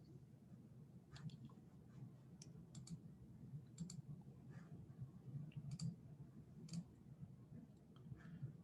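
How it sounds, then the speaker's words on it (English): Soft, faint computer mouse clicks land sparsely one at a time, scattered quietly over a low background hum. "I'm going to click Save and Close."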